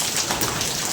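Steady rain falls outside during a sudden downpour, a dense even hiss of drops hitting surfaces, close and continuous with no voices.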